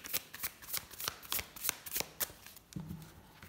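Tarot cards shuffled by hand in a rapid series of sharp riffling flicks and slaps, close and clear, followed by softer handling as cards are drawn; no voices.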